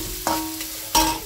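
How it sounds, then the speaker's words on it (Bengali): Onions sizzle in a hot pan while being stirred for an egg curry, a short crackling fry with two sharper scraping stir strokes standing out near the start and end. "এদিকে আমার পেঁয়াজটা ভাজা ভাজা হয়ে গেছে"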